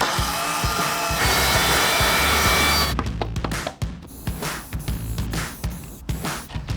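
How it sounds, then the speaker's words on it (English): A power drill bores holes into an RV wall, a dense whining buzz for about three seconds, followed by choppy bursts of shorter drilling and clattering handling noises up close. "we're just drilling holes in the walls"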